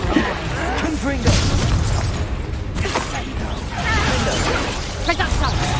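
Explosive Confringo curse spell cast in Hogwarts Legacy, bursting and shattering over continuous combat noise, with a voice calling out during the busy fight.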